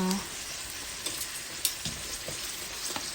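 Fish balls deep-frying in hot oil give a steady, close sizzling hiss with occasional soft pops and stirring clinks, no voices.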